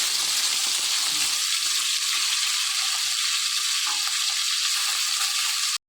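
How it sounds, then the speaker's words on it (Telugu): Raw prawns fry in hot oil with a steady, dense sizzle that stays loud and unbroken throughout, close up and with no talking. "పచ్చిరొయ్యల్ని కొంచెం సేపు వేయించుకుందాం"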